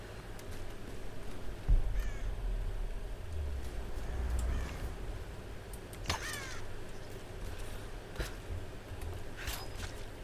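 Crows cawing in the Tomb Raider video game, several harsh calls spaced a few seconds apart over a low rumbling outdoor ambience, moderately near and distinct.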